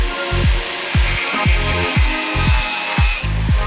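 Angle grinder cutting during a motocross bike build for a Panthera PM-09 600cc two-stroke, heard as a steady loud whine broken by a run of regular rhythmic rasping strokes, about two per second, with no talk.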